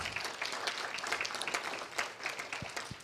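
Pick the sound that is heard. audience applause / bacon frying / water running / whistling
audience applause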